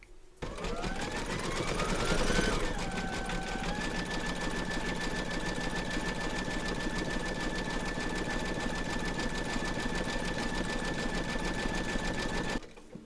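An embroidery machine runs continuously as it stitches Santa's nose in flesh pink thread, a loud steady whirring hum with a brief rise in pitch at the start and an even drone until it stops.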